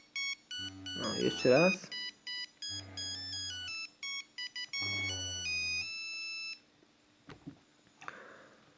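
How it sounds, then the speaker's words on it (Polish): A Nokia 3310 mobile phone plays a polyphonic ringtone in bright, repeating melodic phrases, loud and close. There are short pauses between bursts, and a person speaks briefly near the end. "To chyba był najfajniejszy dzwonek."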